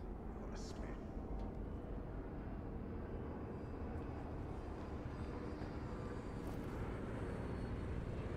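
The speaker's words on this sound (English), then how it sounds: "I hear a plane." Steady broadband roar of an airplane passing overhead in the video game Dying Light, continuous and moderately loud for the whole stretch, with no talk over it.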